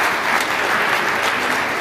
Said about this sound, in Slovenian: še enkrat aplavz za vas